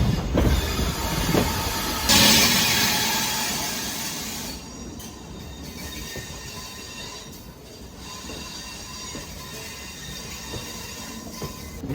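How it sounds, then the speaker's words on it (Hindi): The Trivandrum Rajdhani Express rolling into Ratlam Junction at night, with loud wheel rumble, clicking rail joints and squealing wheels that ease off to a steadier hum as it slows, heard from aboard the train. "रतलाम जंक्शन में हमारी एंट्री हो रही है"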